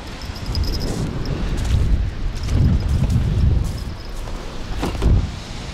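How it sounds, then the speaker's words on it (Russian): Strong wind buffets a microphone on a sandy riverbank during carp fishing, producing rolling low rumbles and gusts that swell and fade irregularly, with no speech over it. "Ветер очень сильный."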